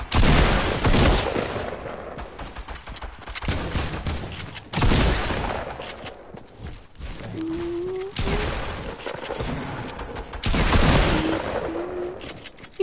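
Sustained video game gunfire, loud dense bursts of automatic shooting in several long volleys with brief lulls between, and a faint tonal whine partway through.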